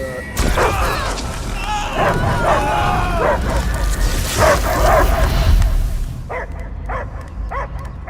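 A dog barks and yips repeatedly in Marvel's Guardians of the Galaxy video game, the barks loud and close amid game effects and voices, with a few sharper isolated barks at the end.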